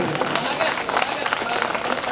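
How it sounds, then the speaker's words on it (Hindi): A large crowd at a village fair poetry gathering claps with hands raised overhead, loud, dense continuous applause mixed with crowd noise throughout. "एक बार अपने दोनों हाथ ऊपर उठाकर तालियां बजाकर मुझे बताइए"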